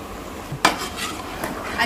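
Mutton being mixed with ginger garlic paste in a pot, with a sharp spoon knock against metal followed by a few softer stirring scrapes and a faint sizzle, close by.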